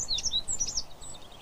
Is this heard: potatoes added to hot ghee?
no